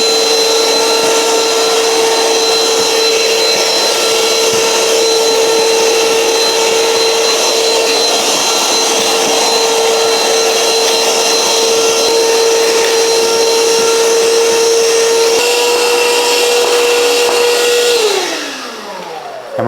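A Ryobi 18V hand vacuum runs with a steady, loud whine as it sucks up wood shavings and paper, droning evenly for a long stretch before the motor spins down at the end.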